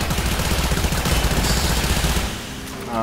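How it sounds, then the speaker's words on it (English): Gunfire in the Warframe video game: rapid, sustained automatic weapon fire rattles loudly and continuously, easing slightly near the end before picking up again. "What is shooting at me?"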